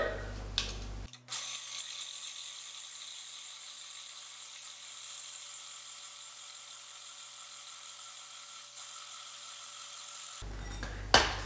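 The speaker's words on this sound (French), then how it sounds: "si on fouette à l'aide d'un fouet électrique, vous allez voir ce qu'on va obtenir" An electric whisk whips dalgona coffee in a bowl, a steady high whirring hum running for about nine seconds between brief handling noises at start and end.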